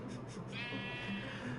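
A sheep's bleat, a wavering drawn-out cry with a trembling tone, rises midway and lingers against a busy musical background.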